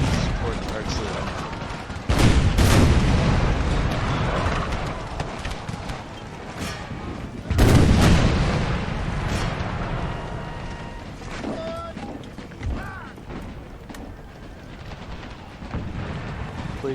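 Artillery and gunfire rumble through a Civil War battle video game. Heavy blasts land around two seconds and again near eight seconds over dense, continuous battle noise, with a voice talking over the top.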